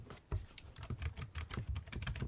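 Fast, close typing clatters on the very thin keyboard of a Raspberry Pi 400, a quick run of light, soft key taps with little mechanical clonk, heard alone.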